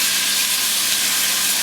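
Smoking-hot oil hisses and sizzles in a pan as food caramelizes, a loud, dense, unbroken frying hiss close up for a short moment.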